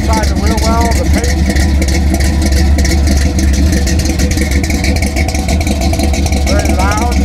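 An AMC SC/Rambler car engine idles loudly nearby with a steady, rough rumble, while someone talks over it.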